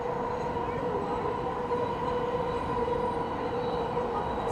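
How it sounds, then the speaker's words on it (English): An automated people mover train at JFK airport runs with a constant loud rolling rumble, a steady tonal whine from the car and faint background chatter. "This is a people mover rail."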